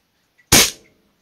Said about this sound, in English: 2 shots there, and I guess the second one, blast of air, must have tripped the chrono.